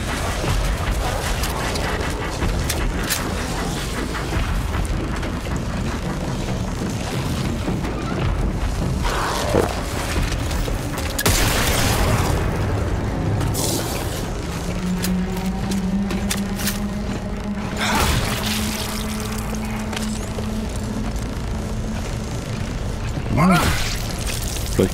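Repeated booming blasts and crashes from combat in The Callisto Protocol, dense and loud throughout, with a voice talking over much of it.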